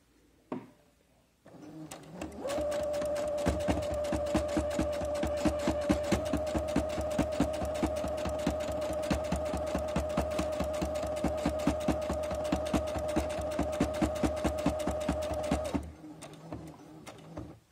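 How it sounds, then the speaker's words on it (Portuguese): A sewing machine runs steadily for about fourteen seconds while stitching a Mexican star patchwork block, its rapid even needle clatter loud and close with a sustained motor whine, starting and stopping abruptly with no talk. "E já continuo a minha costura."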